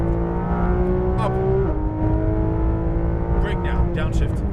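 A Porsche GT3 RS race car on the EXR Las Vegas track, its engine loud and steady, pitch holding then dropping as it downshifts, with a driving coach talking throughout over the drone.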